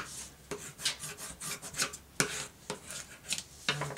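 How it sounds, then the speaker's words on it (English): Paper for a mini album being burnished, a series of close, dry rubbing strokes in an uneven back-and-forth rhythm, each a short scratchy swipe, with no talk. "Give that a burnish."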